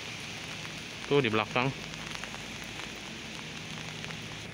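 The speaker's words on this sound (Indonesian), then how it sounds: "Soalnya ini hujan jadi aku meneduh dulu" Steady rain patters on an outdoor car auction lot, a constant hiss that fills the whole clip, with someone briefly speaking near the start.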